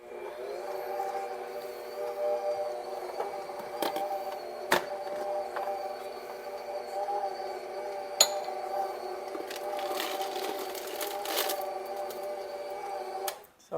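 An electric mixer beats chocolate chip cookie dough with a steady motor whine and hum throughout, close and fairly loud, with occasional sharp clicks and knocks of the beaters against the bowl.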